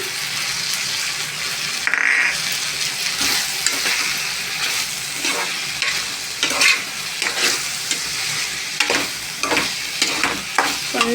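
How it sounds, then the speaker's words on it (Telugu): Tempering for a drumstick curry sizzles loudly in a hot pan, a steady, close crackle of frying broken by repeated stirring scrapes. No one speaks. "కొంచెం వీటిని కూడా వేగనిద్దామండి తాలింపులో బాగా వేగుతుందండి"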